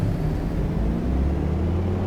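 A Britten-Norman BN2 small propeller plane in Microsoft Flight Simulator 2020 drones steadily on a short takeoff with a low, continuous rumble, holding at a constant loud level with no voices.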